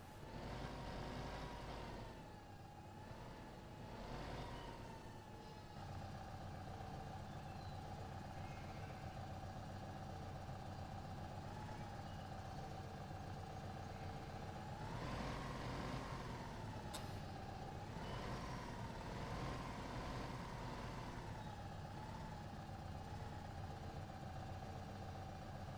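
A tractor engine idles steadily in the Farming Simulator 15 game, a loud continuous low rumble with a hiss of air near the middle and no speech.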